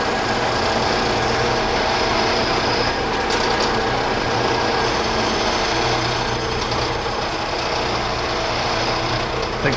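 A Powermatic Model 90 metal lathe runs through a skim cut, giving a loud, steady mechanical drone with gear whine and a brief rattling tick, continuous and close throughout.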